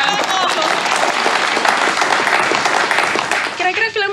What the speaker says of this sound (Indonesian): Tepuk tangan dulu untuk Pak Anwar Kongo.